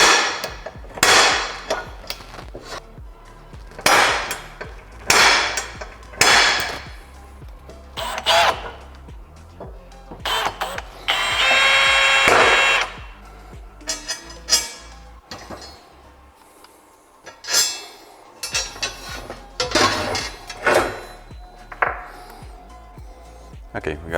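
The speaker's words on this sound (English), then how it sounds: "we got all our mounting points drilled out" A drill bores mounting holes in homemade metal seat brackets for Nismo seats, giving a short whirring burst amid scattered clanks, taps and tool knocks close by in a workshop.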